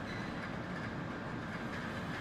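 Video-game train rolling along the rails with a steady, rumbling clatter of wheels on track, continuous and fairly quiet, with no talk.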